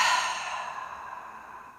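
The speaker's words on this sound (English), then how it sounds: "Inhale in through the nose, and then exhale out through the mouth." A single relaxed breath exhaled out through the mouth during a calm breathing exercise, a close, soft airy sigh that starts strongest and slowly fades over nearly two seconds.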